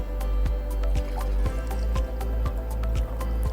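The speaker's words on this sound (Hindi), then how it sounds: "एक में पहले मैं ब्रांडेड बाहर का पानी डालूंगी" Packaged bottled water poured into a glass at close range, a steady liquid stream with a rapid series of bright drips and splashes running throughout, no talk.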